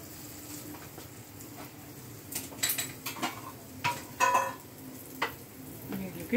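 Eggplant slices fry gently on low heat in a pan. A soft, faint sizzle runs under irregular clinks and scrapes of a utensil against the pan, close by.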